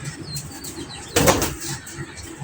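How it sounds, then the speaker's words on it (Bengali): A restless pigeon bursts into a short, loud flurry of wing flapping close by, with faint cooing and bird chirps in the background. "কি ছটফটা কবুতর আসলে এগুলা।"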